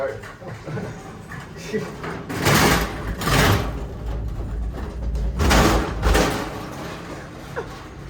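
A Schindler elevator at a mall store, its motor humming while two sets of doors slide open together, with two loud rumbling surges over steady machinery noise.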